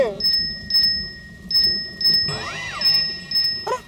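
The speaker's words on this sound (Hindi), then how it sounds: "नहीं बच्चों, ये मेरे फोन की रिंगटोन है" A mobile phone ringtone plays a repeating electronic chime in short bursts, with a warbling melodic phrase in the middle, close and fairly loud.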